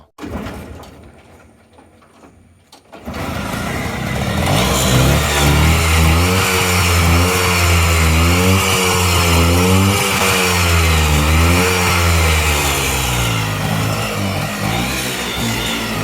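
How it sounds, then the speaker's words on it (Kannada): A car exhaust revs up close and loud after a few quiet seconds, holding a strong rising and falling engine note with repeated throttle blips until the end. "Exhaust sound ಹೇಗುಂಟು?"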